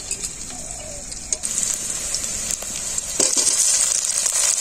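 Chopped onion and tomato sizzle steadily in hot oil in a pan for palak paneer, a continuous close hiss that grows slightly louder toward the end, with no talking.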